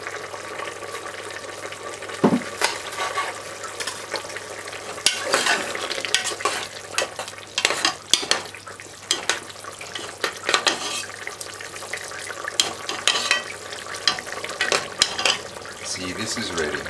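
Jamaican stewed peppered steak simmering in a pot, a continuous bubbling sizzle with scraping stirring clatter and spoon knocks throughout, fairly close.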